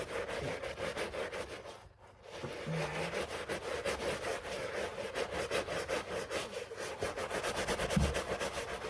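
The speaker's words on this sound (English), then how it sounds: "You just gotta put in some scrubbing on the soles." Running shoe soles being scrubbed: steady, rapid back-and-forth rubbing strokes, close and fairly loud, continuing without pause and with no talk.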